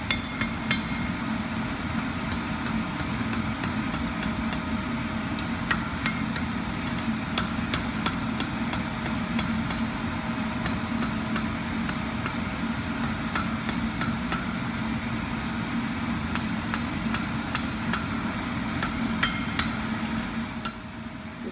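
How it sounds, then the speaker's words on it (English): Rapid, repeated metallic hammer strikes on iron at an anvil ring out over a constant mechanical hum, the blows coming in quick irregular bursts throughout. "I take it over to the anvil and I basically smooth out the edges. I hammer down all the uneven places"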